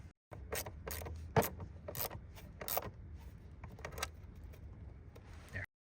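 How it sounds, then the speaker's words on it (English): A 10mm wrench tightens a ground ring terminal screw with a lock washer during a Toyota Tacoma amplifier installation, making a close series of sharp metallic clicks and ratcheting ticks spaced irregularly over a few seconds. "we're going to mount it using a 10mm wrench"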